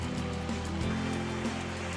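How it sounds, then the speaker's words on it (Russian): The Geyser waterfall rushes as a steady, dense roar of falling water, close and constant, with no voices over it. "Ребят, вот мы и дошли до водопада Гейзер."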